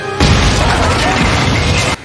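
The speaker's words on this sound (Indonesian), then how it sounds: "tiba-tiba terjadi sebuah ledakan dan terjadilah kekacauan" A loud, sustained blast fills nearly two seconds, a booming roar with crashing debris that cuts off abruptly, like a cinematic explosion in a film.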